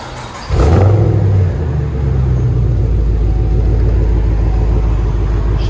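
A Chevy Camaro SS with a 6.2L V8 and Flowmaster Flow FX exhaust snaps into a loud rev, then settles into a deep, throbbing idle rumble, close and with no voices.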